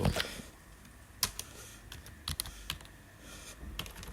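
Someone types text on a computer keyboard while designing a flyer in Photoshop, producing sparse, fairly faint keystrokes in short irregular bursts with quiet gaps between them.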